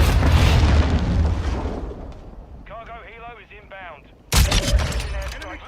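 Precision airstrike explosions from Call of Duty Modern Warfare II, a loud rumbling barrage of blasts that fades, then a sudden heavy boom after a pause, with battlefield radio chatter in between.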